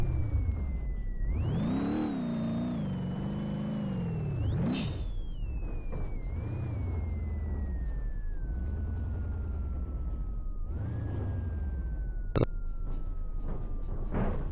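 A car engine in the BeamNG.drive game revs up and down through repeated gear-like sweeps, a loud whining drone rising and falling, with brief bursts of noise and a sharp click near the end.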